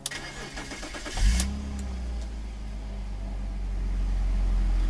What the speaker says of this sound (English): that 3-liter dual overhead cam, 24-valve, dual Vanos variable valve timing inline 6 comes to life